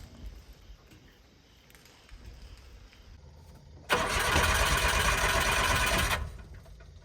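Suzuki Carry 4x4 mini truck engine cranking to life after quiet shuffling, then running at a loud, steady buzzing idle for about two seconds before it cuts off.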